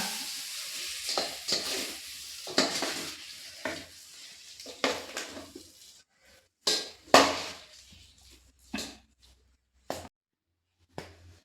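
A Kasaragod-style kenga curry is stirred in a pot over a faint sizzle, with intermittent spoon scrapes and knocks in bursts broken by short quiet gaps, heard up close and without talking.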